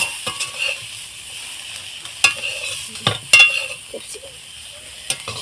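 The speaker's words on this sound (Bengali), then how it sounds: "এদিকে আমি সয়াবিনগুলো নামিয়ে নিয়ে ক্যাপসিকামগুলো ভেজে নেব" Capsicum frying in refined oil in a pan: a faint steady sizzle broken by a few sharp clinks and scrapes of a spatula against the pan, close and fairly quiet.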